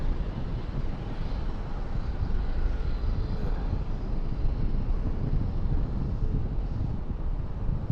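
An American Airlines Boeing 777-200 lands at Raleigh-Durham airport, heard as a steady, broad jet roar with wind noise that holds at an even level for the whole stretch, with no talking.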